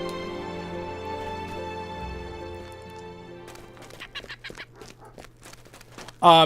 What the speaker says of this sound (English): Duck, yes.